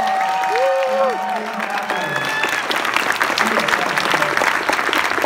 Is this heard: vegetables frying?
no